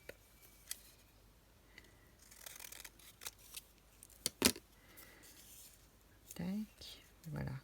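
Scissors snipping craft material for a little-bees kit, a few sharp cuts and rustles among quiet handling noises, with a soft voice talking briefly.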